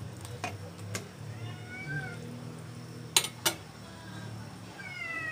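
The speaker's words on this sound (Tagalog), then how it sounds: "Naingay yung mga pusa ko." Cats meowing indoors in a home kitchen, several drawn-out mewing calls spread across the stretch, moderately near but fairly quiet, alongside a few sharp clicks and taps of kitchen items.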